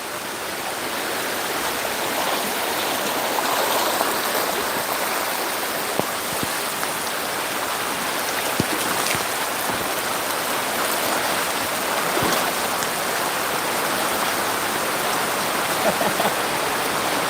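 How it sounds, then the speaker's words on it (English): Rain falls steadily outdoors in nature, a dense even hiss of drops with occasional louder close taps and no voices. "The rain can start to fall and now I have to run for shelter, right?"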